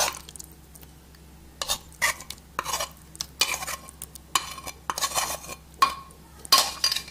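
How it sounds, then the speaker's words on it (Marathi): Vegetables being stirred into thalipeeth bhajani flour in a bowl, with irregular scraping, clinking and mushy mixing strokes close up and no talking. "आता ह्या पिठामध्ये मी हे भाजी सगळी टाकतीये."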